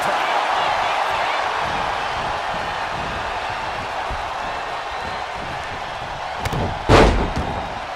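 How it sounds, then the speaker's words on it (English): A heavy shot to the gut lands with a single sharp slam in a wrestling match, the opponent pinned in the corner, bursting out near the end above a steady wash of crowd noise. "Unloads a shot to the gut. Boom! Did you hear the impact?"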